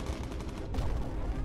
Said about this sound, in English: that was a good explosion